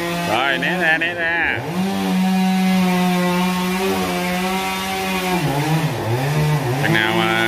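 A chainsaw revs up and bogs down while cutting a giant Ba Dau tree, its loud, wavering engine note rising and falling throughout as it works close by.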